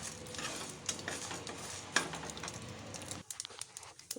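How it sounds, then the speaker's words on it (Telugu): Mustard seeds crackle and pop in hot oil in a pan, a busy continuous frying sizzle with scattered sharp pops, easing off near the end. "ఆవాలు చిటపటలాడుతున్నాయి"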